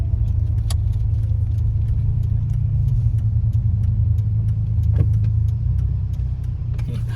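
A 1981 DeLorean DMC-12 with a five-speed gearbox, 2,600 miles on it, is driven along with a steady low engine drone heard from inside the car and faint clicks and rattles over it. No one speaks.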